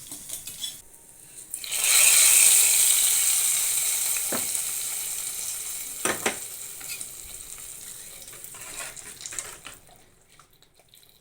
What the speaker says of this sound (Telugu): ఇప్పుడు సాంబార్ అయిపోయింది, తాలింపు కూడా అయిపోయింది. మనం అందులో వేసుకుందాం